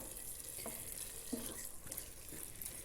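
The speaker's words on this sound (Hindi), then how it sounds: "अब हम इसको थोड़ा सा हाई फ्लेम करके ये जो थोड़ा बहुत पानी बीच में रह गया है इसको खुश्क कर लेंगे ताकि ये अच्छी तरह से भुन जाए" Eggplant baingan sabzi fries in a pan over high flame, a low continuous sizzle with light scraping stirs at intervals, fairly quiet and close.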